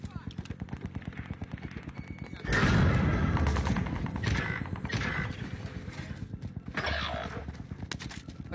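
Loud gunfire in a PUBG-style battle royale shooter: rapid clattering bursts, then heavier booming volleys that swell and fade over several seconds, with a player's voice audible underneath.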